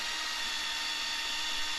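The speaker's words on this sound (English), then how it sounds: "I'm going to drill some 1/4-inch holes" A power drill boring 1/4-inch holes into the side rail and bottom rail of an old wooden window sash, a steady, close, continuous whine and grind that holds unbroken throughout with no talk.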